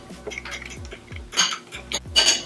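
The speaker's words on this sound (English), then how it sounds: "you're going to want to whisk that all up" Eggs and milk whisked into an egg wash in a bowl, quick rhythmic clinking strokes of the whisk against the side, close and clear with no talk.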